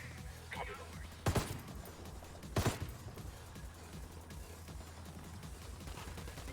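Gunfire in a shooter video game, with an AK in use, comes as two sharp, loud bursts a little over a second apart over a low background rumble, with voices talking around them.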